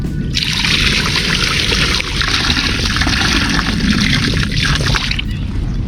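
Salt overflowing a full container, a steady close rushing trickle like pouring grains spilling over the edge, continuous for several seconds with a brief dip partway through.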